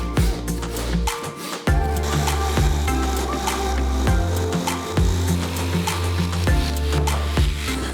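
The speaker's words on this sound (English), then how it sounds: "All I need to do now is just jigsaw this out." A jigsaw cuts through a wooden staircase panel, a loud continuous buzzing rasp with rhythmic strokes and brief dips as the blade pauses, heard up close without talk.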